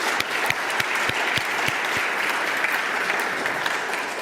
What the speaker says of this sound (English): he deserved a special applause